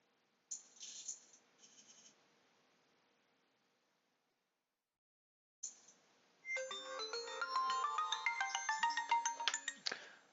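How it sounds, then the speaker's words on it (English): During an online poker session, a phone rings with a melodic electronic tune of rapid repeating notes for several seconds, nearby and clear, after a few brief chimes earlier. "I have a phone call coming in."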